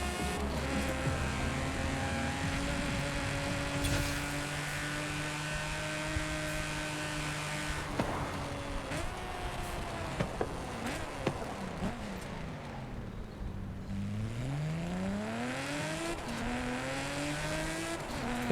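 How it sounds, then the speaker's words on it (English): Straight-six car engine in a racing video game revs steadily through the gears, its pitch climbing and dropping with shifts and a brief deep dip before rising again, loud and continuous with no talk. "Can I just say the straight six noise is one of my favorites?"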